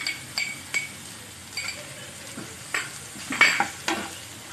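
Onion frying in a pan with ginger garlic paste and green chili being added for a dhaba-style dum arbi curry: soft sizzling under regular stirring strokes and light clinks of a utensil against the pan.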